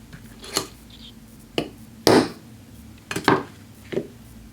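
A big hammer strikes manicure nippers while they are sharpened, giving five sharp metallic clinks spaced irregularly, each ringing briefly over a quiet background with no talk.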